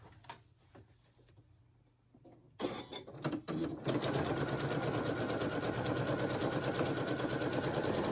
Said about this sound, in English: you're gonna take your fabric and your batting and you're gonna sew